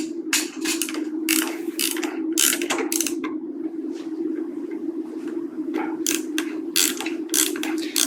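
Tornier reverse shoulder locking mechanism ratcheting on a sawbone model in a surgical technique demo: bursts of sharp, close metallic clicks in quick runs, pausing midway, over a steady low hum.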